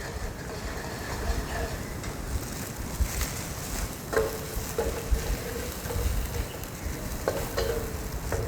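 Vegetable soup being stirred in a pot with potatoes being mashed, giving a steady wet scraping and sloshing with soft clinks of the utensil against the pot, close and continuous without talk.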